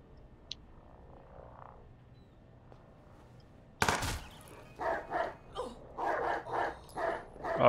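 Dogs barking in the game Watch Dogs 2 in San Francisco, a burst of several loud close barks in quick succession after a quiet stretch of faint background ambience.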